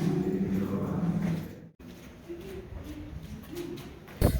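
Pigeons coo softly at old medieval pigeonholes in a mountain-top town in Provence, a low repeated murmur over quiet ambience that breaks off briefly midway.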